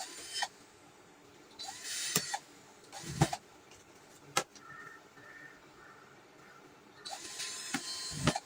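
A hole being made in a plain wood round. Short whirring bursts are separated by quiet gaps and a few sharp clicks, all close and moderately loud, with no talking.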